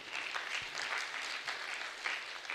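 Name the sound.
audience applauding at dinner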